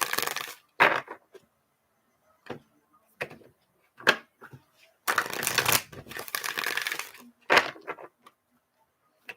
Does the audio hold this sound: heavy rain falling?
no